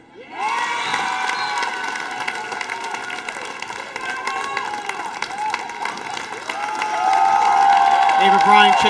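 Crowd at a girls' high school basketball game between Pentucket and North Quincy cheering and clapping for a departing player, with shrill youthful shouts and voices over steady applause that swells louder near the end.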